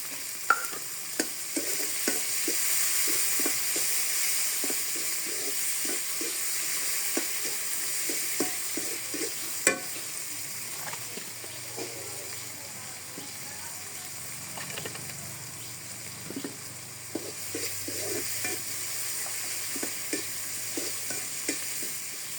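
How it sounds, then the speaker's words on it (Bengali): Garlic and green chilies sizzle in hot oil with a steady hiss, broken by frequent close scrapes and taps of stirring. A faint low hum runs under part of it and no one speaks. "রসুন আর কাঁচামরিচ ভাজা হলে এখন শাক দিয়ে দেবো"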